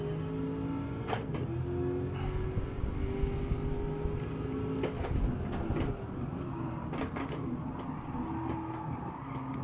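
A powerful race car revs and accelerates in the video game Gran Turismo 7, with a steady engine drone, rising and shifting tones and a few sharp clicks, and no voices.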